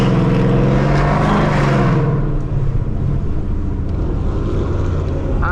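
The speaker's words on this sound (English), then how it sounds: "I put my car on quiet so they can enjoy their food." A supercharged Ford Mustang engine runs with its exhaust set to quiet mode on a downtown Detroit street, giving a loud, steady, close-up rumble that carries a brighter rushing edge for the first couple of seconds.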